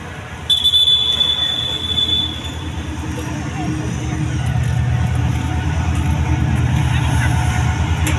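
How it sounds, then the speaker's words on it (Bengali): A train rumbles past at Laksam, Bangladesh, with a rhythmic clatter of wheels, growing louder and heavier, while a brief high squeal rings out near the start. "ট্রেন যাচ্ছে"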